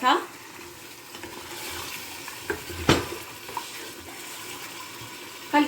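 Chicken is added to a pot and stirred as it fries, with wet sizzling, a few sharp clatters and scrapes, moderately close and without speech.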